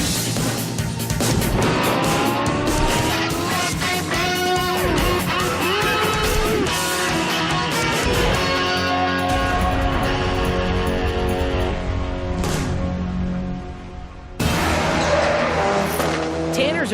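Race cars lap a circuit at speed, engines roaring loud and continuous with tire squeal and skidding through the turns, a brief lull near the end before the engine noise returns.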